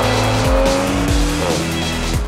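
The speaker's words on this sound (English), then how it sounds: "this engine also sounds great. It is enhanced by the M Sport exhaust unit." BMW M340i with its straight engine breathing through an M Sport exhaust, revving loudly and close by with rising and falling tones and sharp gear-change steps, no voices over it.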